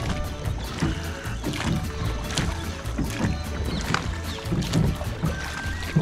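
A rowboat moves along the Banas river, with continuous close water wash and rhythmic splashes of the oars sounding throughout, fairly loud and steady, without talk.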